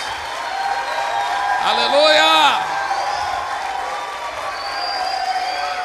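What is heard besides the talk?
congregation giving strong applause for Jesus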